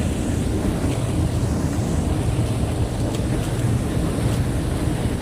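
Sea waves wash in steadily at the shore beside a fishing boat, a loud, continuous broadband surf rush mixed with wind buffeting the microphone, with no voices.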